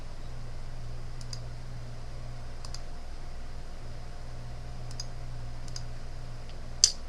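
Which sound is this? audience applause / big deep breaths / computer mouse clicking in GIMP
computer mouse clicking in GIMP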